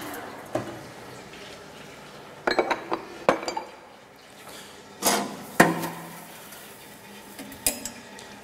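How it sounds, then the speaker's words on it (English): Metal clinks and knocks from a lathe as a drill bit is taken out of the tailstock: scattered sharp taps and clatters over a quiet background, a few louder strikes near the middle. "We remove the drill bit."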